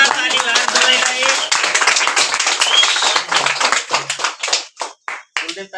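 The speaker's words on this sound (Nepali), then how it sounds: "जोरदार ताली बजाइलाई" Hand clapping from people at a family clan deity worship gathering, loud and dense at first, then thinning into scattered claps with pauses, mixed with voices talking.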